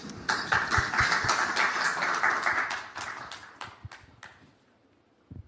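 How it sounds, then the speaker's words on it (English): A round of audience applause at a forum, clapping swelling quickly, holding for a few seconds, then thinning out into scattered individual claps before fading to near silence. "please welcome them with a warm round of applause"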